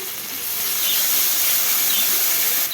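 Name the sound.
chopped onion added to hot tempered oil, sizzling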